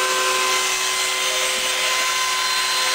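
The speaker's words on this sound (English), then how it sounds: "Phlatprinter 3 carving a giant sign." A Phlatprinter 3 CNC machine with a spindle attachment carves a large sign, giving a steady, loud, continuous high-pitched whine with constant tonal hums and broadband hiss, running alone without pause.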